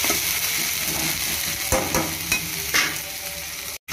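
Ginger garlic paste frying in a pan for prawn thokku, a soft continuous sizzle with a few clearer stirring scrapes, close and fairly quiet, with no talking.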